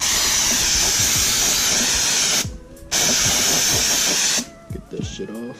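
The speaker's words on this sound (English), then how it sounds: "I suggest for you to wash it down with this brake cleaner." Brake cleaner sprayed from an aerosol can onto a Nissan 350Z brake rotor, two long loud hissing blasts separated by a short pause, with a shorter spurt and a voice near the end.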